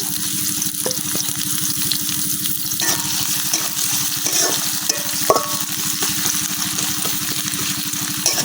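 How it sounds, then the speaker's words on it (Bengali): Raw garlic and onion frying in oil outdoors give a steady, loud sizzle, with scattered clicks of stirring throughout and no talking. "এখন তেলের মধ্যে দিয়ে দিতেছি কাঁচা রসুন, কাঁচা পেঁয়াজ।"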